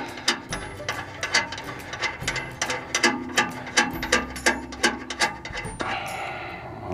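A ratchet wrench loosening jam nuts on a combine feeder house, clicking in quick repeated bursts of ratcheting strokes close up, with some light metallic handling between them.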